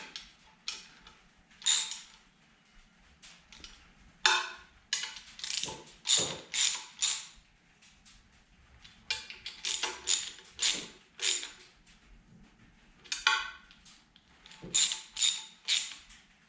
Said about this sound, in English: Let's go through and just give them the tiniest amount of torque.